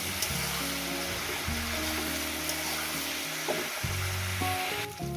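Khesari greens fry in a pan for a curry, a steady hissing sizzle beneath background music, with no voices.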